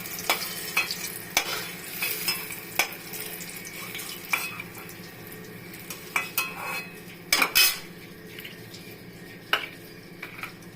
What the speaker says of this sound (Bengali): বেগুন পুরো লাল লাল করে ভেজে নিয়েছি, এবার বেগুনটাকে উঠিয়ে নিচ্ছি।